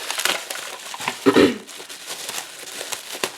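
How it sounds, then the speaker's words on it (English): Plastic wrapping crinkles and crunches as it is torn off a pack of planner stickers, a close, sharp burst of crackling in the middle amid quieter rustling handling. "So let me go ahead and unwrap this one too."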